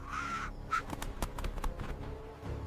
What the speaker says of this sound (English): A cunning black crow appears, circling stealthily around the treetops, looking for an opportunity.